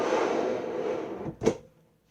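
A drawer on a wooden art box opens or closes with a sliding rumble followed by a single sharp knock as it stops, and then the sound falls to silence.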